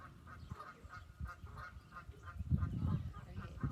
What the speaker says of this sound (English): Got a little geese action coming down the lane here.